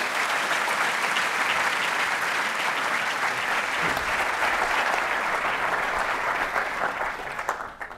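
A lecture-hall audience applauds to welcome a speaker, with steady, dense clapping that goes on for several seconds and then tapers off at the end.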